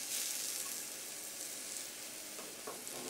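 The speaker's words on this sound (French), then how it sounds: "On va mettre un petit filet d'huile d'olive pour faire suer notre échalote." Shallot sweating in a drizzle of olive oil in a pan gives a steady, dense sizzle with a gentle hiss that carries on evenly for a few seconds, close and moderately loud, with no voices.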